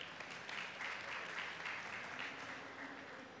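A fairly quiet crowd at a Campus Party startup talk applauds steadily to welcome a speaker from Torrenegra Labs. The clapping is even and sustained, heard at a distance throughout.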